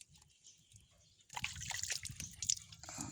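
Water is poured to rinse all-purpose degreaser off a surface. Faint scattered drips come first, then a louder stretch of splashing and trickling with irregular spatters.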